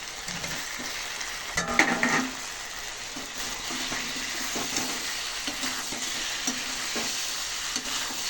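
Potatoes stir-frying in a pan give a soft, continuous sizzle with scraping stirs and a louder burst of clatter early on, fairly quiet and with no talk.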